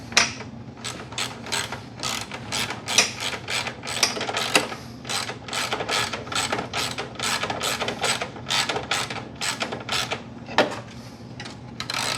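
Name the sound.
bolting up the horns on a buggy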